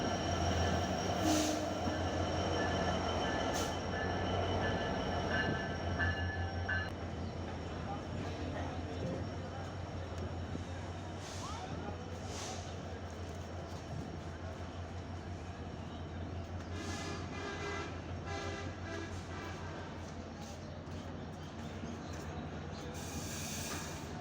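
Chilahati Express 806, a passenger train, rolls into a newly built railway station, giving a steady loud rumble of wheels on rails with clanking and occasional squeals and hissing, sustained throughout at close range.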